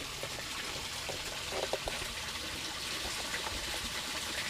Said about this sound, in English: So you can hear it just start draining right now.